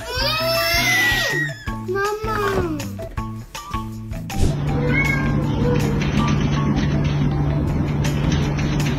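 A cat meows several times in quick, rising cries over the first few seconds, close and clear, followed by a steady background hum.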